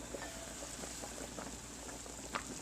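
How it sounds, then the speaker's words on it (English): Veal tongue simmering in water inside a lidded pot at a medium-high boil, a steady low bubbling hiss with scattered soft pops and gurgles throughout, fairly faint and close. "there you can see the tongue is boiling in there"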